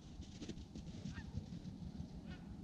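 Geese honking on a hunt on Colorado's Front Range, a few distinct nasal calls at moderate distance over steady outdoor background noise.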